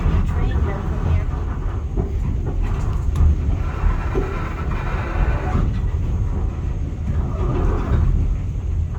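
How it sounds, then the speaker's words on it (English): An East Broad Top train running, a steady rumbling rail noise at moderate distance that lasts the whole stretch, with people talking nearby. "I can see the train though from here."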